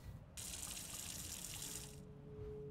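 Water pours from a bucket in a survival video game, a steady splashing gush lasting just under two seconds before cutting off, fairly faint.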